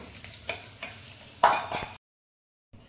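A bay leaf, dried red chilli and a little five-spice hitting hot oil after fish has been fried, giving a few sharp crackles and spits in short bursts, the loudest burst near the end before a sudden cut to silence.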